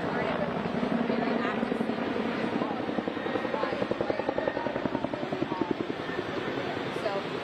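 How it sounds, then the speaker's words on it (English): A helicopter flies over the Fork Fire wildfire scene in Madera County, its steady rotor chop pulsing loudly and evenly throughout. "right now as we speak, there's another helicopter coming right this way"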